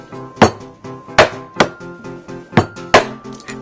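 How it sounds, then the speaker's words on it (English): Six sharp hammer blows cracking walnuts wrapped in a tea towel thud and crack at uneven intervals, each a short percussive strike on a muffled surface, close and loud. "This is how I shell my walnuts. In a tea towel with a hammer."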